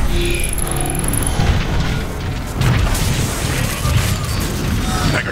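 Artillery strikes in the Transformers: Fall of Cybertron video game rumble as dense, booming explosions that roll on and overlap through the whole stretch, loud and heavy, with a brief high electronic tone near the start.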